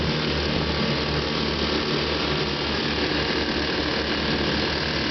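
Three Johnson JW 3hp outboard motors run together, one of them cavitating badly, giving a steady, loud, throbbing engine drone with a rhythmic low pulse and no talk.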